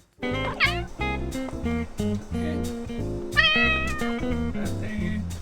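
A Bengal cat lets out loud, drawn-out meows, two rising calls standing out over a dense, steady layer of other sound, indoors in a small apartment.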